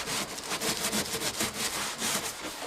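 A scrub brush works over a teak boat deck in quick, rhythmic back-and-forth rasping strokes, close and steady, with no talking.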